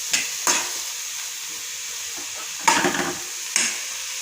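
Ginger garlic paste stirred and frying in a pan for carrot onion samosa filling: steady sizzle under a few scraping stirs of a spoon against the pan, close and moderately loud, no voices.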